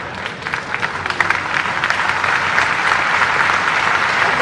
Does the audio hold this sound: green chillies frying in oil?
no